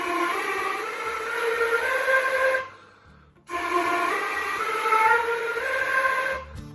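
A flute plays the aeolian technique, a breathy, airy tone with a faint pitch inside, held in two long phrases with a short breath gap between, close and alone.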